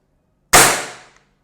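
A single sharp shot from a Gamo Viper Pro 10X IGT Gen3 4.5 mm air rifle with integrated shroud, a loud close crack with a quick decaying tail, alone in silence.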